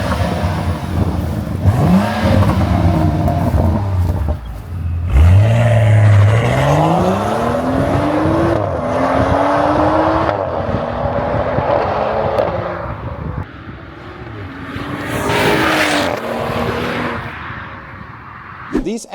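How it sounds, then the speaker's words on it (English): A stage 2 tuned BMW M135i with an N55 engine revs hard and accelerates, its loud engine note climbing through gear changes for almost twenty seconds, with some talking mixed in. "this is another BMW M135i N55 EWG engine"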